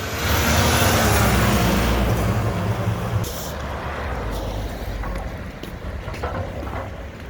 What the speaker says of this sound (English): I hear another garbage truck.